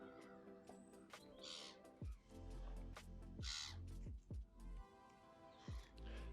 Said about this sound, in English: Seagulls. Look at them.